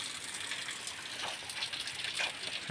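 Water falling down from a hillside near a hilltop temple in Sonbhadra, a steady gushing splash that fills the whole stretch with no voices.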